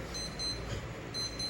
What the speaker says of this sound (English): sorry for that beeping